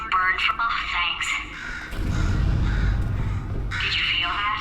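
A crow caws in Portal 2, several loud, harsh calls at the start and again near the end, with a low rumbling game background between them.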